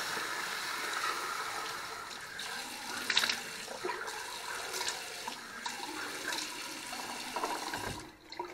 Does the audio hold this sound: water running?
yes